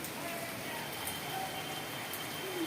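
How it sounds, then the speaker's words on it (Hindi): Heavy rain that has been falling hard for days, a steady dense hiss of drops on surfaces around a house, continuous and fairly loud across the whole moment, with faint background sounds but no clear talk. "खूब तेज बारिश हो रही है"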